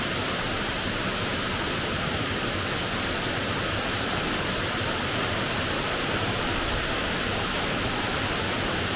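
Crabtree Falls, a waterfall in the Blue Ridge Mountains, roaring as a loud, constant, dense rush of falling water that never lets up.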